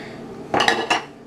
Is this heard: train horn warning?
no